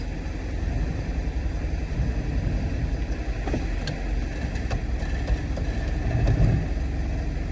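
A car engine runs at a low steady idle with slight revving while it is eased inch by inch into a tight gap between a metal pole and a Mercedes. The engine sits under a constant close background rumble, with no talking.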